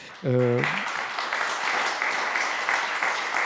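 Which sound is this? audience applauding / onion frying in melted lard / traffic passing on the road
audience applauding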